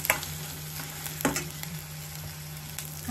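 Ginger garlic paste fries in oil for a Telangana-style brinjal masala curry, a steady close sizzle with occasional scraping stirs and clinks of a spoon against the pan.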